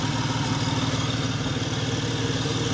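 A 1992 Ford Taurus LX station wagon with a 3.8L engine with about 162,000 miles idles steadily up close, a continuous rhythmic rumble with a faint whining, rattling alternator pulley noise running through it.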